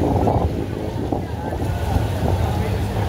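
Strong, steady typhoon wind roars continuously with heavy gusting rumble, a storm blowing hard outdoors in the Philippines during Typhoon Kristine, with no clear voices.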